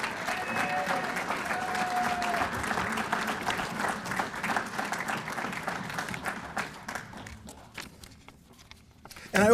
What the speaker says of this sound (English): Please give Robin a round of applause.